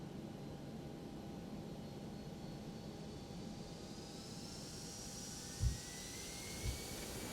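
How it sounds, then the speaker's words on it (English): Simulated engine roar of a Toliss A319 airliner taking off in X-Plane 12, a steady broadband rumble with a thin rising whine, plus a couple of soft thumps near the end. "we're gonna be taking off like a bat out of hell here"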